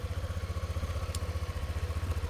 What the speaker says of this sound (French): Voilà le scooter.